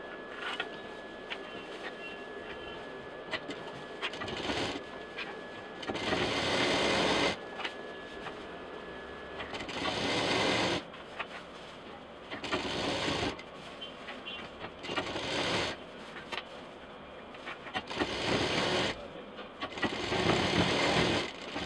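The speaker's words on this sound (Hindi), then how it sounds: "इस तरह से हमें इसको सिलना है।" A sewing machine stitches a backpack in a series of short, repeated whirring runs with brief pauses between them, close and moderately loud.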